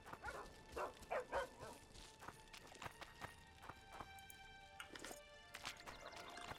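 In The Witcher 2, a dog in a village gives several short barks and yips in scattered bursts, with clip-clopping hooves and ambient game sounds around it, moderately loud and without speech.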